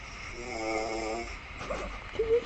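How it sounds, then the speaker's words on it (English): A sleeper lets out one drawn-out, buzzing snore nearby, followed by a few softer breathy sounds. "Can you hear that snoring?"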